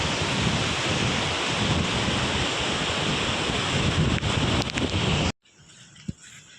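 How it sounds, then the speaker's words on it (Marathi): Rain beginning to fall beside a river near a bridge, a loud, dense, steady hiss with gusty wind buffeting, then cutting off abruptly to a much quieter background with one faint knock. "पावसाला सुरुवात झाली आहे"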